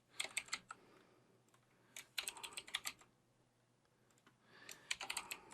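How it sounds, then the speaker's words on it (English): Quiz answers typed on a computer keyboard in quiet bursts of quick key clicks, with short pauses between the runs of typing. "So I'm going to type in my various different answers."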